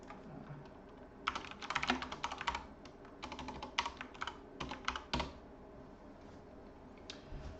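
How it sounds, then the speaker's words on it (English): Typing on a computer keyboard, fairly close: irregular bursts of quick clicking keystrokes with brief pauses between them, plus a few isolated taps near the end. "I'll type that in the chat."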